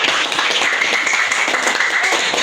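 Classroom applause from students during a lesson, a loud, continuous patter of many hands clapping together nearby, sustained and even throughout.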